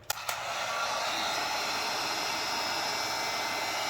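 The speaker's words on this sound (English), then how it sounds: "I'm just going to go really lightly over with my heat gun because this is very hot" A heat gun blows hot air lightly over resin, a steady whooshing hiss that starts after a couple of clicks and runs on loudly and evenly.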